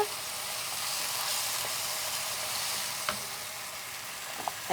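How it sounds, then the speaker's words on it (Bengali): Spices and chili powder are stirred in a hot pan for a raw jackfruit and prawn curry, making a steady moderate sizzle with a few sharp spoon clicks against the pan and no speech. "মরিচের গুঁড়ো সেটাও এক চা চামচের মতো আর এটাকে একটু নেড়ে নিই"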